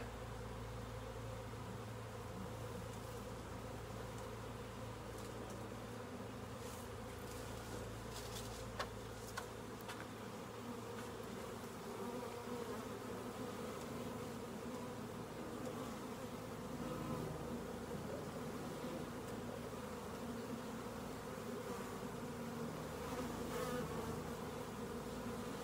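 A honeybee swarm buzzes in a dense, unbroken drone, loud and close around the listener for the whole stretch, with many bees humming at once and no voices heard.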